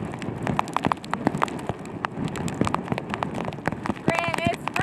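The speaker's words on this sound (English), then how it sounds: "it's rainy, it's windy" Steady rain patters on a hard surface with gusty wind, and a person talks over the downpour.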